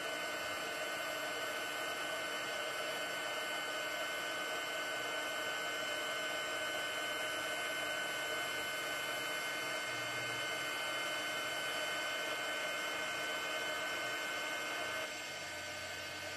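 A heat tool blows hot air steadily over a handmade Christmas card, a constant loud whirring hiss that holds for the whole stretch with only a slight dip near the end.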